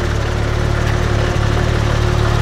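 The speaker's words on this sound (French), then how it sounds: "Avant de partir, écoute le ralenti" A Porsche 997 GT3 RS 4.0 flat-six engine idles close by with a steady, slightly uneven rumble and one brief dip partway through, no voices.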